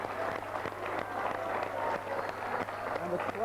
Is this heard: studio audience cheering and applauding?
yes